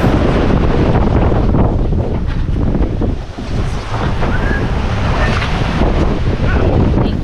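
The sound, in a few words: wind and big waves while sailing offshore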